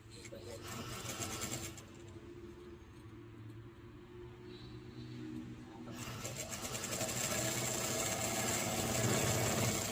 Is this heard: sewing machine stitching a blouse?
yes